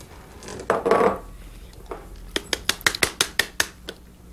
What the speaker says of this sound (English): Let's transfer those spices into a little bowl.